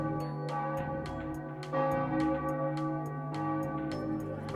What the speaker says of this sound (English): What do you think that bell is ringing for?